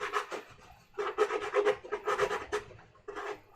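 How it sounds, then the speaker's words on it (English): A hand file rasping over the sharp edges of a freshly drilled hole in a plastic sim cockpit panel, in short repeated scraping strokes with brief pauses between, close and fairly loud. "I always like to just run a file over it as well"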